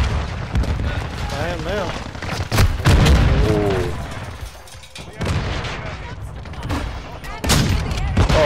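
Assault rifle gunfire in a video game, loud bursts and booms in irregular clusters mixed with shouted talk and music.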